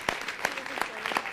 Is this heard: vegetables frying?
no